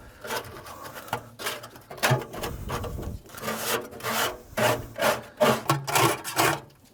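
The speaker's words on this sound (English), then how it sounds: "the first thing I'm going to do is take my plastic scraper here" A plastic scraper rasps across the metal surfaces of a pellet grill during cleaning, a close series of uneven scraping and rubbing strokes with irregular rhythm, heard alone without talk.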